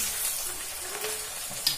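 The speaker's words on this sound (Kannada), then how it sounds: "ಈಗ ನಾನು ಕರಿಬೇವು ಸೊಪ್ಪು ಹಾಕೊಳ್ತಿದ್ದೀನಿ" Curry leaves hit hot oil with onions, giving a brief bright sizzle and crackle close by, with a small stirring tap near the end.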